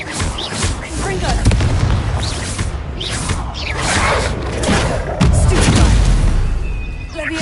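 A Confringo spell in the Hogwarts video game bursts as a loud, crackling blast amid repeated booms and mechanical rattles in a busy combat mix, with a voice shouting over it.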